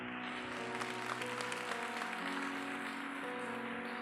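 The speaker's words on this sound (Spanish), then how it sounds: "Aplauda más fuerte" A church congregation claps steadily during a worship service, the dense, continuous applause sitting over sustained musical tones from instruments playing along.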